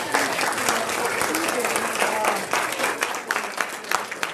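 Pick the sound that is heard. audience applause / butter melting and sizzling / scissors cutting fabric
audience applause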